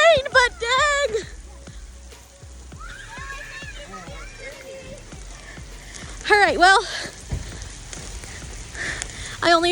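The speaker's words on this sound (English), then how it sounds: "it's raining" Steady rain falling and splattering on surfaces outdoors during a back-to-school bike safety outing, a close, continuous patter heard under frequent talking.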